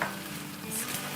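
Chicken and noodles being stirred in a pan for a Chinese-style dish, a soft steady sizzle with light scraping, close and alone for about a second.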